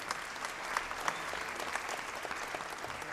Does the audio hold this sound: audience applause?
yes